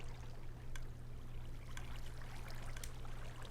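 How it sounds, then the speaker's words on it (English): Water flowing in Minecraft Skyblock, a steady broadband trickling and streaming wash with a constant low hum underneath, continuous and fairly close for the whole stretch with no talking. "How is this water not flowing backwards?"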